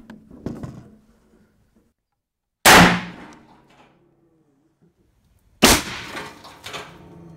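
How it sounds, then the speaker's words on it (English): A .308 rifle fitted with a muzzle brake fires twice indoors into a block of pykrete, each shot a loud, sharp blast with a short echo, about three seconds apart. "it's a little loud indoors with a 308 with a muzzle brake on it."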